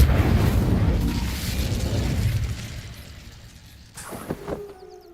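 A fire spell cast in the Hogwarts Legacy video game bursts out with a loud, broad rush of flame that slowly fades, followed by a few sharper crackles and pops near the end.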